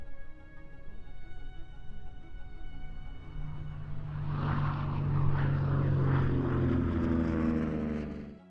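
Propeller engines of P-47 fighter planes drone steadily, a tonal hum that swells louder and broader halfway through as the aircraft pass nearer, then holds as a sustained roar.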